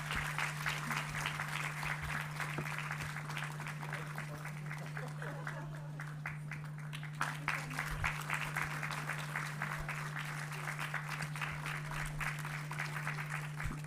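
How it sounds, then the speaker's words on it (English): Audience applause at a Budget 2024 analysis session, a steady patter of clapping held at a moderate, somewhat distant level over a low electrical hum. "A big round of applause for Sir."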